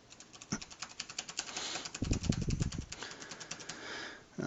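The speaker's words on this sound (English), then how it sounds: "Let me type something." Keys clatter on a laptop keyboard in a quick run of light, close clicks, faint against a soft steady hum.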